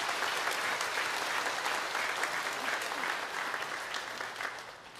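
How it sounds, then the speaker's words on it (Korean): A church congregation applauds steadily for several seconds, a dense wash of many hands clapping that fades slightly toward the end. "우리 이 자리엔 없지만 수고한 모든 어린이들을 위해서 박수로 격려하겠습니다."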